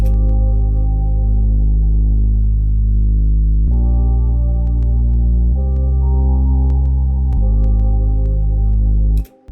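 Sustained synth chords shift through a slow progression over a deep, rumbling sub bass that moves with the low notes, with faint ticks above.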